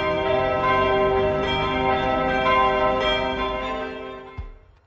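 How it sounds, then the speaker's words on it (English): Four bronze church bells, brought from Germany to a parish in Utena, ring together in a sustained, resonant peal that is loud and near, then fade into a lingering hum with no voices. "4 bronze bells, inspiring the hearts of the faithful, were brought from Germany and given as a gift to the parish."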